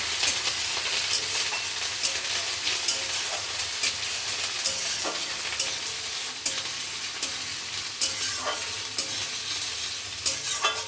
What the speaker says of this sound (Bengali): আদা কাঁচা লঙ্কা দিয়ে দিলাম। ভালো করে ভাজতে হবে